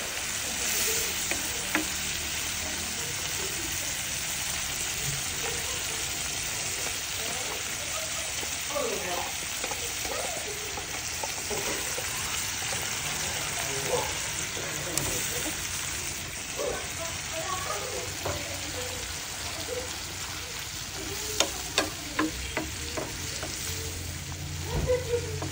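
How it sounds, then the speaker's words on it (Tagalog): Delimondo ranch-style corned beef sautés in oil in a pan, giving a constant close sizzle and crackle with occasional sharper pops and stirring scrapes, with no talk over it. "So, gigisahin lang natin to hanggang sa mag-reduce yung kanyang mantika."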